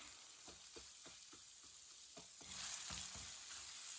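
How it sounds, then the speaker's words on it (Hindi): Chopped tomatoes with green chillies cooking in a pan for moong daal, a steady close sizzle with a spoon stirring in soft, regular scrapes. "टमाटर को भी 2 मिनट के लिए पका लेंगे।"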